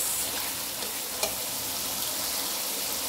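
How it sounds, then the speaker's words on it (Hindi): Potatoes and spinach cook in a pan and are pressed and mixed, a steady close sizzle and frying hiss with one faint scrape of the utensil. "इस तरह हम दबा दबा के इसको मिक्स करते जाएंगे साथ साथ।"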